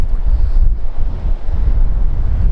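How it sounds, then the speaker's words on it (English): Calm sea washes against the rocks at Filey Brigg, a low, rolling rumble heavily buffeted by wind on the microphone, loud and continuous throughout. "The sea is so much calmer than it has been."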